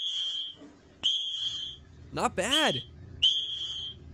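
An AI-generated whistle sounds in several sharp, shrill blasts separated by short pauses, with a brief voice cutting in between them.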